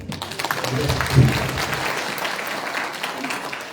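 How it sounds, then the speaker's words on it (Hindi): Audience clapping at a joint mass Christmas carol programme in Bomdila, a dense patter of hands from a seated crowd that swells briefly then settles into steady, moderately loud applause with some voice underneath. "तो ताली बजाना आता है क्या?"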